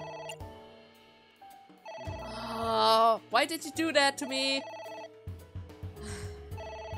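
Phone ringing in the video game AI The Somnium Files, a repeated electronic ring with game music and a spoken line over it, growing louder in the middle.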